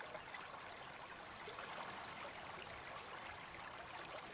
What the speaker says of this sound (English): You can hear that running water